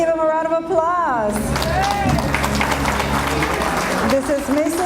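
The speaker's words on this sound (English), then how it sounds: "Let's give them a round of applause." An audience at a 6th grade elementary school banquet applauds a sixth grade class as it walks in, steady loud clapping over crowd noise, with a voice speaking over it at the start.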